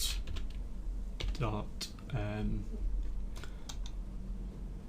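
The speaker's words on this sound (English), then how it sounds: "we come down here and type save script" Keystrokes clatter on a computer keyboard as a script command is entered, coming as quick uneven clusters of clicks, with a voice speaking briefly between them.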